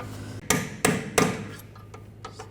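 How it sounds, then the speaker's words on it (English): A hammer drives a punch against a bolt on the rear lower control arm of a 2004-2009 Audi A4 Quattro, three loud metallic strikes followed by a few lighter taps, close and ringing, with no talk. "Just hammer this bolt out."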